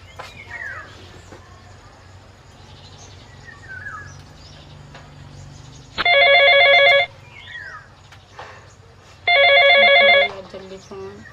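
A telephone rings in two loud, trilling bursts about a second long, separated by a pause, against a quiet room with faint chirps and voices in between.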